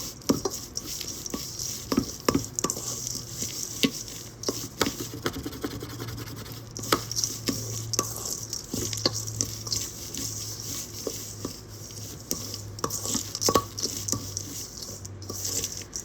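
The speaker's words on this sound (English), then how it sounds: "mix it a little bit more so that everything is kind of, it becomes a good mixture and everything is homogenized" A spoon scrapes and pats steadily through a thick rose and mulberry extract shampoo bar mixture, producing a continuous close, soft scratchy churning with light clicks and a faint low hum beneath.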